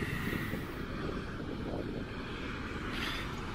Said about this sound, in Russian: потому что очень ветрено.